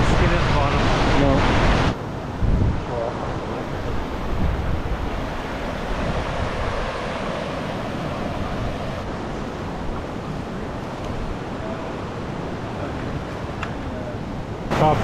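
Fast, warm water rushes over Top Cotton Falls on Nootka Island, a steady close roar of churning water with wind buffeting the microphone and a louder gust at the start.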